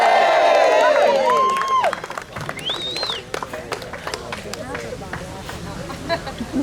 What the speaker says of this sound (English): a big round of applause if we can